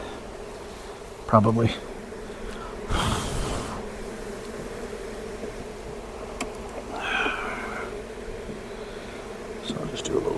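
Honeybees buzzing steadily around stacked beehive boxes during a box rotation, a constant close hum with occasional louder passes near the listener and brief handling knocks; a person speaks briefly.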